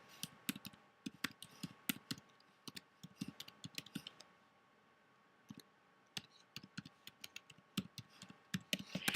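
Keys clatter in quick, irregular bursts on a computer keyboard as an email address is typed in a quiet room, close and fairly soft, with brief pauses between clusters of taps.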